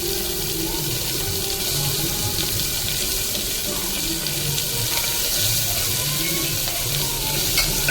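Chopped small onions stir and fry in a pan, a steady hiss of frying broken by scraping and clinking of a stirring spoon throughout.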